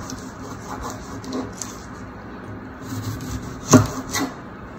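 A knife trims both ends off a peeled onion on a cutting board, giving a few soft scraping cuts and one sharp chop near the end, with no talking.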